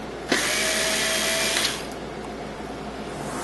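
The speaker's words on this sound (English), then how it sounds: "you'll want to remove the screws that hold the light curtain boards to the bracket" A power screwdriver briefly whirs while backing out screws from the light curtain boards of an XLS unit, a steady close buzz lasting just over a second, then a quieter mechanical hum.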